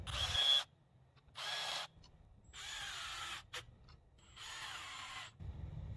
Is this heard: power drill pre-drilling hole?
yes